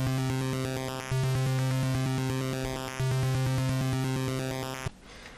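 Game Boy pulse-width-modulated custom waveform tone: a loud, buzzy, harmonically rich chiptune sustained for about five seconds with two brief dips, then cutting off abruptly into a short burst of noise.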